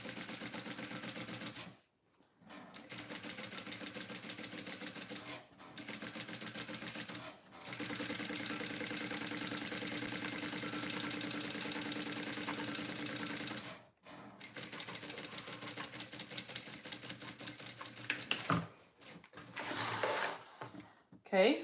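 A sewing machine stitching a waxed canvas apron runs in long, steady mechanical bursts with brief stops between runs, close and fairly loud, and a voice talks at times.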